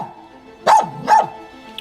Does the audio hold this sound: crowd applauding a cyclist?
no